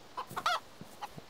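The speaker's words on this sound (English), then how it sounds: "it was a rooster, not a chicken" A rooster in the video game DayZ gives a few short, close clucks and squawks in quick succession, one louder burst in the middle, then two softer calls.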